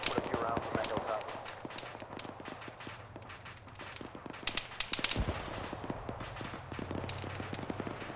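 Distant and near gunfire in a military video game, scattered single shots and short rapid bursts, some sharp cracks close by, under faint radio-style talk.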